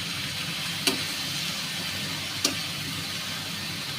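Whole chillies frying in a home kitchen pan, giving a soft, continuous sizzle with two brief sharp clinks of a utensil against the pan.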